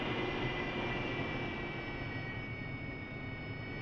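A jet aircraft in a video game taxis toward the runway, a steady loud broadband engine roar with a high whine laid over it, continuous and unchanging throughout.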